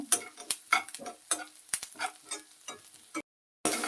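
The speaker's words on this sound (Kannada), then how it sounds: "ಚೆನ್ನಾಗಿ ತುಪ್ಪದಲ್ಲಿ ಬಾಡಿದರೆ ಟೇಸ್ಟ್ ಚೆನ್ನಾಗಾಗುತ್ತೆ." Onions and greens sautéing in ghee for tambuli, stirred with a spoon in a pan: repeated scraping stir strokes over a steady close sizzle, a brief dropout near the end, no talking.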